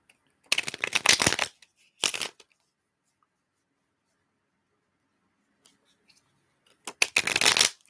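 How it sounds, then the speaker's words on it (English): Tarot cards are shuffled in short riffling bursts, two early and one near the end, with near silence in between and no talking. "We're just about done shuffling."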